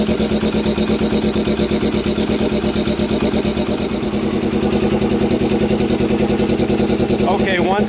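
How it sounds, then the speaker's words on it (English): A 1991 motorcycle engine idles steadily and loudly up close while warming up, its even pulsing rumble holding throughout with no break. "we'll let it warm up so I don't talk over the motor"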